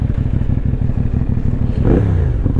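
A CF Moto 450 NK roadster's engine and exhaust rumble close by, pulsing evenly and then revving up sharply partway through, with no voices present.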